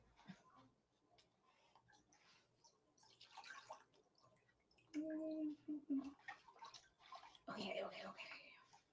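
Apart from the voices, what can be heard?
water spraying while rinsing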